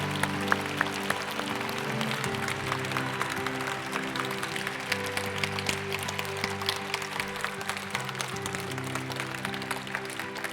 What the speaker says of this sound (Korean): 우리 하나님께 감사와 영광의 박수 올려드리기로 원합니다.